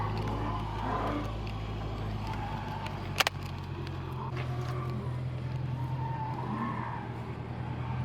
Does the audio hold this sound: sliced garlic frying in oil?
no